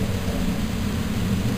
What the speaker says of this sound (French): un important orage est en train de nous aborder